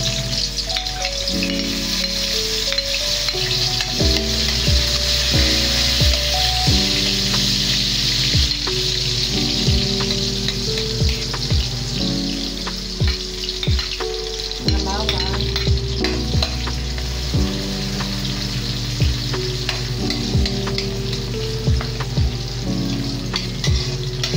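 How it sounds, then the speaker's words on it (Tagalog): Onions sauté in a hot pan for a bitter gourd dish, giving a loud, constant sizzle with repeated scraping stirs and clinks of a spatula, close up and with no talking. "Gigisa muna ako ng sibuyas"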